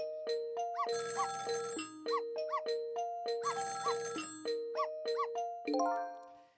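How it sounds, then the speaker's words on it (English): A telephone rings in the apartment next door in the Ghost Trick video game, a bright electronic melodic ring that repeats in a steady pattern of chiming notes, clear and alone before it cuts off. "It's the sound of a telephone ringing, coming from the apartment next door."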